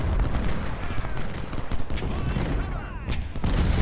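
Dense musket volleys and booming artillery fire from a Civil War battle at Winchester in Ultimate General: Civil War, crackling continuously at close range with heavier thumps near the end, a voice faintly underneath.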